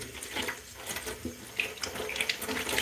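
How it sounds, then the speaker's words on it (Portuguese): A yellow cotton cleaning cloth used on an Electrolux electric stove is rinsed under a running tap, with a steady, fairly quiet hiss and splash of water and a few small drips and clinks, with no talking. "Deixa eu passar aqui uma água."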